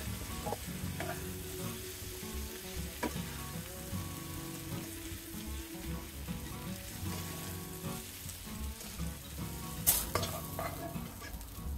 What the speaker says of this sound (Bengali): তিন মিনিটের মতো আমি পটল ভেজে নিয়েছি